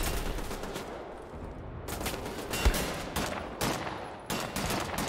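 Gunfire in the video game Wolfenstein The New Order: several sharp, loud bursts separated by brief gaps, the shots fairly close, with no talk over them.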